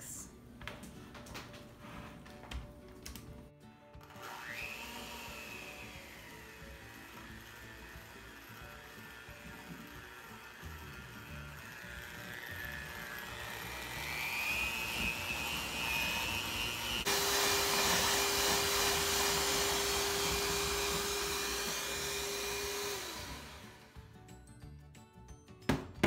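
Electric mixer running at high speed, whipping rice milk and vanilla into a vegan whoopie pie batter: a steady whirring drone with rising and shifting pitch that grows louder and harsher toward the end before cutting off.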